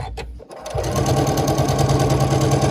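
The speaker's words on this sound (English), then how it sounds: "and then we're going to sew them" A sewing machine stitches pieces of a quilt block together: after a brief quiet handling moment, the motor starts and runs at a steady, close, fast-chattering pace to the end.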